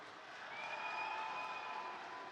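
Crowd applause and cheering at an esports tournament for a MultiVersus 2v2 match at EVO, a steady, distant wash of clapping without distinct voices.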